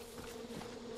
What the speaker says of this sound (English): Oh shit, I hear bees. I hate bees in Far Cry